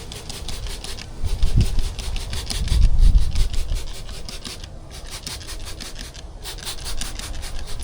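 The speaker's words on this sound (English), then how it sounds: "So we're going to treat that, give it a scrape and a scrub." Hard water stains and paint overspray being scraped and scrubbed off window glass in Tampa, Florida: a steady, close, rapid rasping rhythm of strokes against the pane, swelling louder for a few seconds, then continuing evenly.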